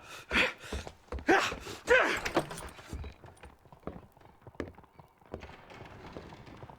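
In the video game Red Dead Redemption, horse hooves clip-clop at close range, a quick run of hoofbeats that thins to softer, scattered steps with some light rustling.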